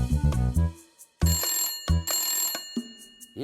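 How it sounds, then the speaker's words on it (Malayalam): Animated cartoon telephone rings in several loud bursts with a bright electronic tone, separated by brief gaps, with no voices over it. "എടാ ഹണി, ഫോൺ എടുക്ക്."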